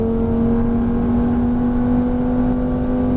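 A Lamborghini Gallardo lapping the Lédenon race track, its engine a loud, steady, close-up drone that holds high revs throughout with no pauses.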